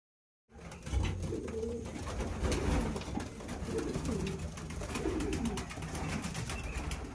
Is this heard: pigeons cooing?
yes